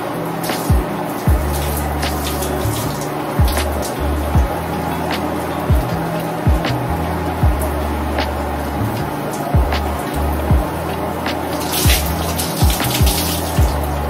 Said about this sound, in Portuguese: Então, eu vou enxaguar aqui e vocês vão acompanhar.